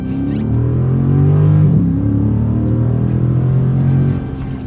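A 2012 Chrysler 300 SRT pulls away under acceleration, a loud, close engine drone that holds and swells in pitch, with a small gear-change dip midway, before easing off near the end.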